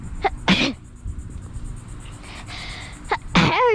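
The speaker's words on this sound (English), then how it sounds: "I gotta sneeze." A single loud, close sneeze bursts out during an outdoor family bike ride, followed by a second sharp sneeze-like burst a few seconds later over steady background noise.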